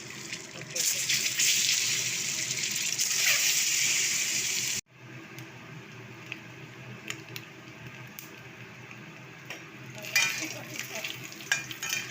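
Egg frying in hot oil with chicken masala and turmeric gives a loud, steady sizzle that cuts off abruptly, followed by quieter crackling, scraping stirs and faint watery squishes, close up with intermittent background voices.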